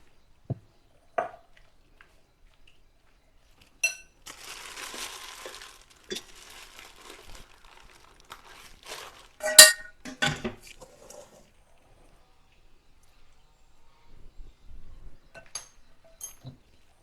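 Okra being coated in rice flour in a bowl for the air fryer, with scattered clinks of a spoon against the bowl and soft scraping and crinkling, sparse and quiet with gaps between.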